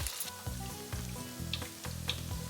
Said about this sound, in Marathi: अशा प्रकारे सगळे खरपूस तळून घ्यायचं आहे आपल्याला.